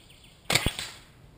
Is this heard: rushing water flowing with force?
no